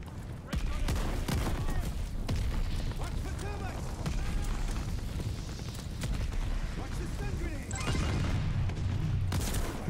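Dense, rapid gunfire and shotgun blasts from a match of the video game Call of Duty Vanguard crackle continuously, with someone talking over the shooting.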